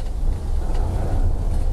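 A Deutz six-cylinder four-stroke boat engine on a motorboat gives a steady, close, low rumble that holds even throughout, with no distinct start-up burst and no talk.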